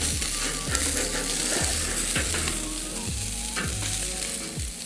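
Steaks sizzle over a barbecue fire as moisture comes out, a dense close hiss with rhythmic scraping and clicking sounds repeating roughly every second.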